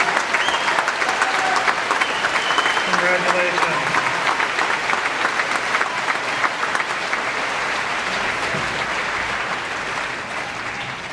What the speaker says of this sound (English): And a big round of applause for these graduates.